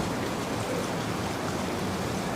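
Rain falls steadily in a dense, even hiss with no breaks or other sounds, a constant wash of drops suited to sleep.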